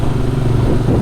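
A Janus Halcyon 250 motorcycle being ridden in Florida, its engine giving a steady, close, continuous low thrum with no speech.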